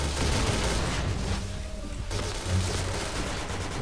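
Rapid bursts of AUG rifle fire in the shooter game PUBG crackle loudly and densely, with a brief lull mid-way before the shooting resumes.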